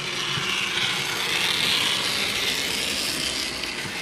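A Dapol track cleaning wagon rolls along model railway rails with a continuous close scraping, rushing rasp that holds steady throughout.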